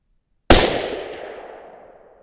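A single sharp rifle shot firing a 140 grain Hornady match round from a T/C Compass in an ORYX chassis, loud and close after a moment of silence, with a long reverberant tail fading away.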